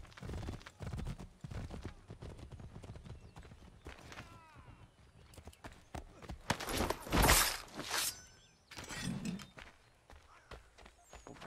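Rhythmic clip-clop of horse hooves in the video game Assassin's Creed III builds and swells to a loud burst before fading, with rustling movement around it.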